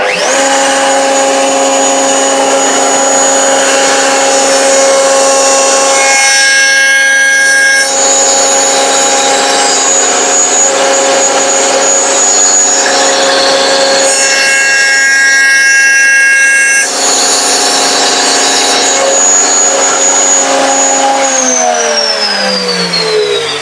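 A handheld router cuts dovetails guided by a mini dovetail jig during box making, its high steady whine holding loud for long stretches, dipping briefly twice, then winding down near the end.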